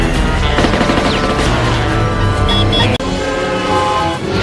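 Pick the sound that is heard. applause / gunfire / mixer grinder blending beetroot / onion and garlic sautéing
gunfire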